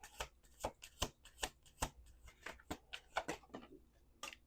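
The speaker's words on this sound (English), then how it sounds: "Two more shuffles." Playing cards are shuffled with a series of quick, crisp riffling snaps in an uneven rhythm, close by and fairly quiet, with no voices.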